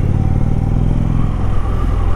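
A 2018 Indian Chief Dark Horse motorcycle engine runs steadily while riding, a loud, continuous low rumble with a throbbing pulse that holds an even pace throughout, with no voices over it.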